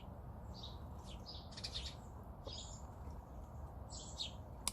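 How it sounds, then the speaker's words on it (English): Small birds chirp outdoors in short, faint tweeting bursts scattered over a soft, steady background hiss, with no one speaking. "Hey, Tweety bird."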